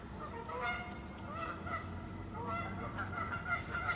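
A diving duck calls from out on the water, giving repeated nasal honks in short bursts that sound somewhat distant against a quiet background.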